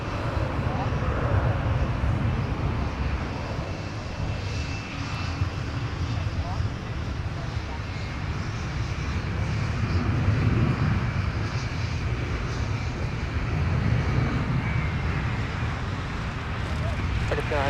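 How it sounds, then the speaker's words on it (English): A Delta Airbus A330-900 widebody airliner arrives at Minneapolis–St. Paul airport, a steady, loud jet roar that holds throughout with gentle swells, while a voice talks over it. "Now arriving from Copenhagen, Delta 117 Heavy with the A330-900."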